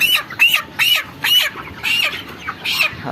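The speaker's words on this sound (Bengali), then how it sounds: "আর এগুলো আমাদের বড় সাইজের মুরগি দেখতে পাচ্ছেন" Large broiler chickens in a poultry farm shed, about thirty-one days old, clucking and squawking in a rhythmic series of about seven sharp calls, loud and close with short pauses between them.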